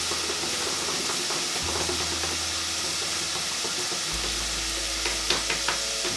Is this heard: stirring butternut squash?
yes